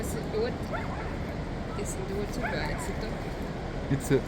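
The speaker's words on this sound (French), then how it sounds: "Un chien. Il était dans l'eau." A dog near water barks a few times at the end of a windy outdoor walk, the barks brief and moderately loud over steady wind and background chatter.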